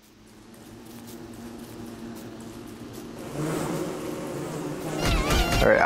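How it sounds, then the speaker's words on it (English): A swarm of bees buzzes in the game Don't Starve, a droning hum that builds steadily louder and closer, swelling sharply near the end. "it's almost too many bees for me to get away from"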